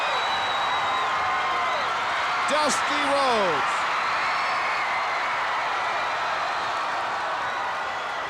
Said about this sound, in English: you can clearly hear the crowd behind the Dream